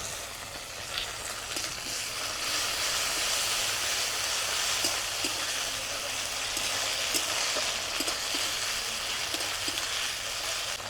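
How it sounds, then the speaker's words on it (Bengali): Chopped onion sizzles in hot oil as ginger and green chili paste and chopped tomato go into the pan, giving a steady, dense frying hiss with faint clicks and no talk. "পেঁয়াজটা ভাজা হয়ে গেছে, এবারে দিয়ে দিব আদা কাঁচা লঙ্কা বাটা"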